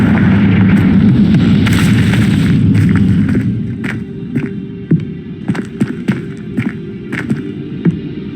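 Confringo fire spell blasting in Hogwarts Legacy, a loud rumbling explosion roaring for several seconds, then fading into a string of sharp crackling pops and bursts.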